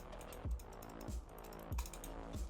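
A gaming mouse with Kailh switches clicks four times at a steady, unhurried pace: crisp, close, quiet clicks with nothing else behind them.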